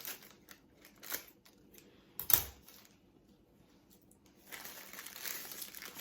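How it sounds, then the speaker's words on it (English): Scissors snip and crinkle through a plastic-wrapped package in a home kitchen, with a few scattered sharp cuts and rustles, one louder clack, and then a longer stretch of crinkling plastic. "I got my package. I'm going to cut it open."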